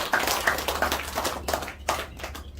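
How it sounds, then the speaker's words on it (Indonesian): Scattered audience clapping at an Indonesian product presentation, a few sparse claps in an uneven rhythm, fairly close and modest in volume, with no talking over them. "Boleh tepuk tangan buat kita."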